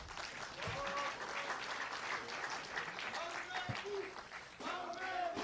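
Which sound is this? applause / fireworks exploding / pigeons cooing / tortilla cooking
applause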